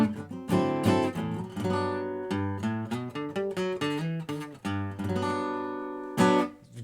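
A guitar plays a major 7 arpeggio lick in G as a run of clear, ringing single notes that let each pitch sustain, moderately quiet and alone with no talk.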